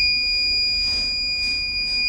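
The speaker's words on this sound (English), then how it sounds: "When the alcohol is detected, the buzzer gets on." A continuous high-pitched electronic buzzer tone from an Arduino smart helmet's alcohol detector sounds steadily, unbroken for the whole stretch over faint background noise.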